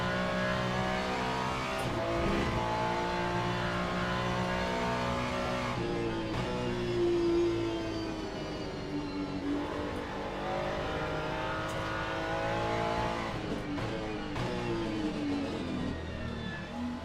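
An LMGT3 race car engine in Le Mans Ultimate revs and shifts continuously, its tone climbing and dropping through the gears in a loud, sustained drone with repeated rising pitch sweeps.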